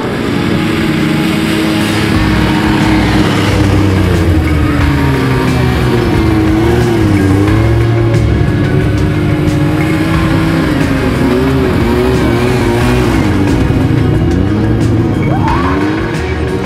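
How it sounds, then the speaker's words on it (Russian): Snowmobile engine runs steadily during a snowy trail ride at Guzeripl, loud and close for the whole stretch, its droning pitch rising and falling with throttle changes and no talk over it. "Ну а сейчас мы поедем кататься на снегоходах."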